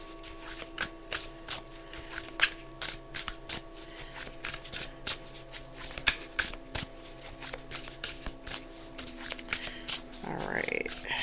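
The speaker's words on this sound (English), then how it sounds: "I just pulled it out of the box, started shuffling." A brand-new tarot deck, fresh out of the box, being shuffled by hand: repeated crisp riffling and card-slapping bursts, close and fairly quiet, with a steady background hum and a brief voice near the end.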